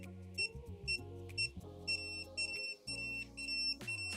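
A wireless dog fence controller gives short, repeated high beeps in a regular pattern, with a low buzzing hum running underneath.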